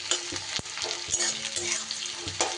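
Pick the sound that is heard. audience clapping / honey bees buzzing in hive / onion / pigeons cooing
onion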